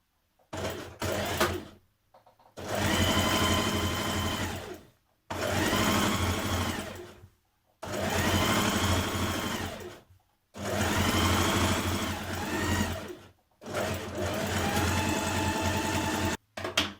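A domestic sewing machine stitches a seam with a 1.5 cm allowance on evening-wear garment pieces, running in five sustained loud bursts separated by short pauses, close by and with no talk over it.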